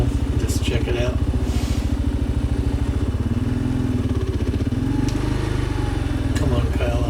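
A KLR 650 motorcycle engine thumps in a steady, close, loud rhythm while riding over a rocky track, with a brief voice heard over the engine noise.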